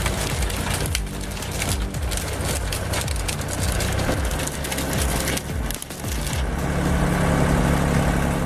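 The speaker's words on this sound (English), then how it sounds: "here they are used to twist, grab, and shred branches into useful mulch or compost material" A homemade drill-bit shredder grinds and splinters branches into mulch, loud and close, with a continuous motor drone under repeated crunching, cracking bursts of wood being chewed up, and no talking.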